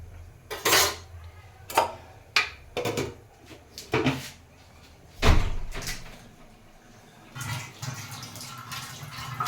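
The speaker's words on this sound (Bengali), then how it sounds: "পুরো হাওয়া দিচ্ছে, দরজা জানলা সব বন্ধ হয়ে যাচ্ছে" Doors and windows bang shut in a gusty wind indoors near a kitchen, a series of sharp, loud knocks and thuds at irregular intervals, one heavier slam standing out, with faint rattling between.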